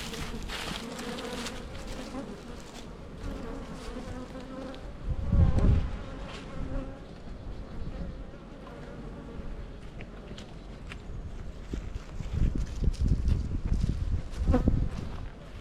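Honey bees buzz steadily around beehives in spring as honey supers are fitted, a dense close hum running throughout with a few low thumps from hive handling.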